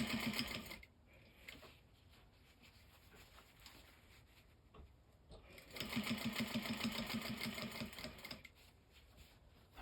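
A home sewing machine stitching fabric, a steady fast mechanical whir and needle clatter that runs continuously, easing off in the middle and then speeding back up, close and fairly quiet with no talking.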